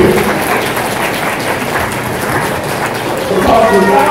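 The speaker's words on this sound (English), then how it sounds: "Everybody to stand up and turn around and applaud your people that made it possible" A graduation ceremony audience rises and applauds, producing a dense, steady wash of clapping from a large crowd in a hall, sustained and loud throughout.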